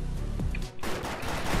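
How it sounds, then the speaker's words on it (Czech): Machine gun fire from the Defiance video game, a dense run of loud, rapid shots with a brief lull partway before heavy gunfire resumes. "Zadu je kulomet."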